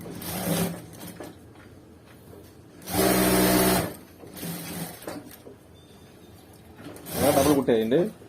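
A sewing machine stitches piping onto a blouse in several separate bursts of fast mechanical whirring, close and loud, with quiet handling noise in between and someone speaking at the end.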